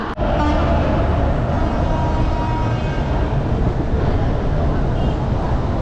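A local train leaving Santragachi station on the Howrah to Digha route, with a loud, dense rolling roar and rattle throughout and a sharp knock at the start.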